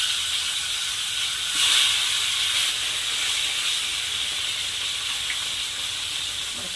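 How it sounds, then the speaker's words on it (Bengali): Fish fries lightly in hot oil in a wok, giving a continuous bright hiss and sizzle that holds fairly steady throughout, with no talking. "কড়াইতে আর একটু তেল দেবো। সব মাছগুলো আমি একইভাবে ভেজে নেব।"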